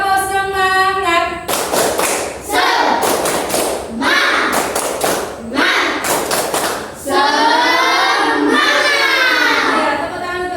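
Schoolchildren in a classroom perform a rhythmic spirit clap, bursts of loud group clapping and thumping alternating with chanted children's voices, close and energetic throughout.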